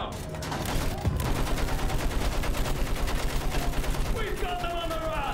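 A Battlefield 1 machine gun fires a long, fast and even burst, loud and close, its rapid thudding reports running continuously over battlefield noise, with voices shouting faintly underneath.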